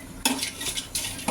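Dried chillies frying in hot oil in a pan for mango chutney, with panch phoron warmed alongside, giving a steady close sizzle broken by loud scraping and stirring bursts of a utensil against the pan.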